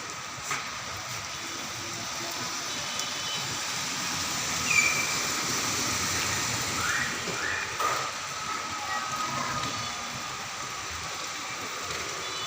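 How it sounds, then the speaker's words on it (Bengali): Steady broadband hiss of rain falling continuously, fairly constant in level with a few faint clicks and drips, no voices. "হ্যাঁ, বৃষ্টি পড়তেছে"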